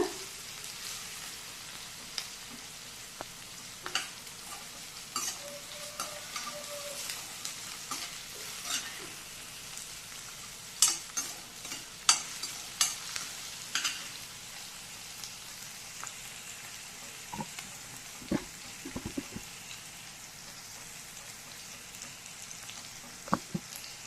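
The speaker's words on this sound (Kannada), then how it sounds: "ಇದು ನೀರುಳ್ಳಿ ಎಲ್ಲ ಸ್ವಲ್ಪ ಫ್ರೈ ಆಗಬೇಕು" Onions sizzle in a pan for a beans palya, a continuous frying crackle with repeated scrapes and clinks of a spoon stirring, close and steady with no talking.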